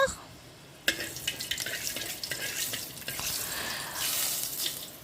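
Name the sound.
fenugreek seeds frying in hot oil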